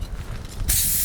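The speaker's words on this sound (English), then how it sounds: "I like to spray all new parts with a bit of brake cleaner" A short burst of brake cleaner aerosol spray hisses loudly and steadily after a moment of quiet background noise, sprayed on new front brake parts of a 2009 Kia Sportage LX.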